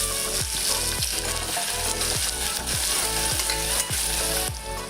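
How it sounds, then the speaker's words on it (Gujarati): Onion sautéing in oil with cloves, cinnamon and asafoetida crackles in a loud, steady sizzle, cut by regular stirring strokes every half second or so, close up. "થોડી હિંગ ઉમેરશું આપણે ડુંગળી સાતરીશું પહેલાં"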